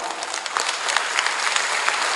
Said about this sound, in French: je voudrais simplement demander à ce qu'on acclame très fort le Père Ezoa